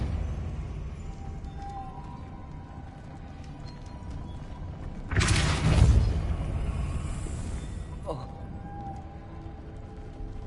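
Depulso spell cast in Hogwarts Legacy, a sudden loud whooshing blast lasting about three seconds and ending in a sharp crack, standing out over steady clip-clop hoofbeats and ambient game sound.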